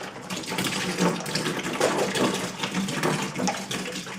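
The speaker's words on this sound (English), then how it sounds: "Now I'm adding the first 3 liters of apple juice" Apple juice pours steadily into a brewing vessel for home cider, about 3 liters at room temperature, a continuous close splashing gush of liquid that holds for several seconds with slight surges.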